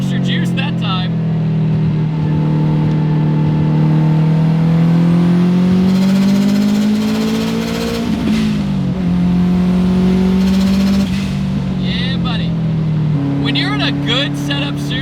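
A 450 hp older-generation turbo Subaru accelerates hard, its engine note climbing steadily through the revs with a brief shift dip, loud and close inside the cabin while someone talks over it.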